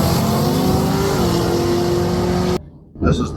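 A drag race car in the first round of a bracket race at a Drag and Drive raceweek, its engine roaring loud and close with a rising pitch before cutting off abruptly, then a brief burst of noise follows.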